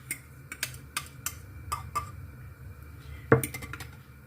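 An egg is cracked and dropped into a frying pan for a mixed fried egg dish: a few light taps and clicks, then one sharper crack, quiet and close in a calm kitchen.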